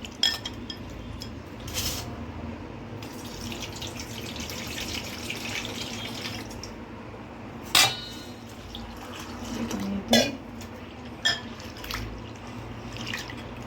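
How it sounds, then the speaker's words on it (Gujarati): Split chickpea lentils (chana dal) swished and rinsed in water, with steady sloshing, running water and occasional clinks of a metal vessel. "પહેલાં આપણે 2 થી 3 પાણીએ ધોઈ લઈશું"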